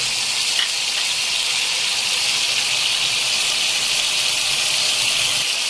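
Mashed dal fries in oil over a high flame, a loud continuous hiss and sizzle with a brief scrape early on.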